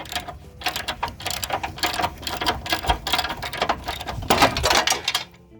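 A ratchet fitted with a 21mm socket works a rear bumper bolt loose on an OBS Ford F-150, giving a busy stretch of rapid clicking and metallic rattling up close that stops abruptly near the end.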